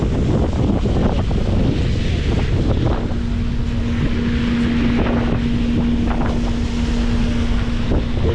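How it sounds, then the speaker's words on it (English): Strong wind buffets the microphone outdoors at the Boston Tea Party ships and museum waterfront, a constant loud rumbling roar with a steady low hum running through it. "it's just the wind is murder"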